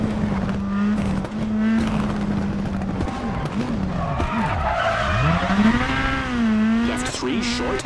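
A WRC 10 rally car on the Catalunya-Costa Daurada stage brakes hard into a hairpin, its engine droning loudly as the tires squeal and skid in long wavering bursts, with a co-driver's voice calling over it.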